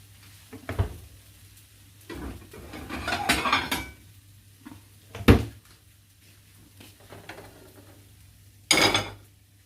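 Shrimp fried rice is scooped from the pan onto a plate, heard as several separate clanks and scrapes of a utensil on metal and crockery, with quiet gaps between them.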